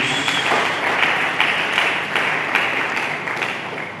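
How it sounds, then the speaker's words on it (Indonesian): An Indonesian church congregation claps for Jesus during a sermon, a loud, continuous round of applause with faint rhythmic pulses rising and falling through its four seconds. "Berikan tepuk tangan bagi Yesus"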